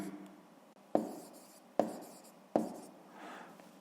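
Handwriting on paper, faint close scratching with three sharp taps at regular intervals, like a pen striking down on the page, with no talk.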